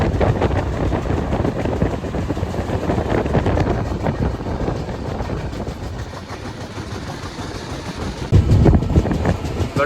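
Brindavan Express train running on a local line from Chennai to Bengaluru, a loud continuous rumble and rattle of wheels with wind buffeting the microphone, swelling louder near the end.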